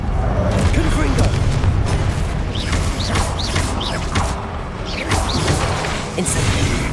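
Confringo fire spell blasting in Hogwarts Legacy, repeated booming bursts and whooshing impacts over dense, loud game combat noise with voices throughout.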